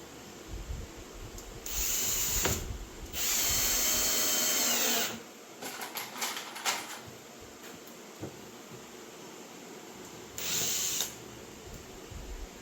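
A power drill drives a screw while building shop steps, sounding as three short whirring bursts split by quiet pauses and light handling clatter.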